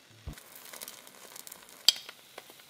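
An egg sets in a hot frying pan with lavash laid on top, a faint soft sizzle with scattered small crackles and one sharper pop partway through.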